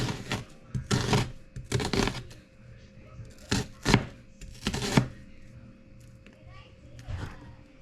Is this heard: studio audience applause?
no